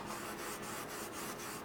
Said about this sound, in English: I'm going to begin rubbing. Gently at first.